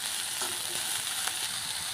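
Onions fry in a hot pan with green chillies for a green chicken gravy, giving a steady, close, dense sizzle with faint crackles and no voices.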